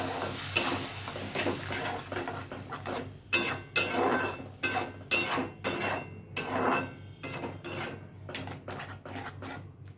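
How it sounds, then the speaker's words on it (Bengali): Spice paste fries with a splash of water in a pan for a soybean curry, a utensil scraping and stirring in repeated bursts over a low, constant sizzle, close and with no voices. "জল দিয়ে মশলাটা ভালো করে কষিয়ে নিই"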